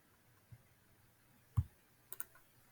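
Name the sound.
computer mouse clicking in Adobe Illustrator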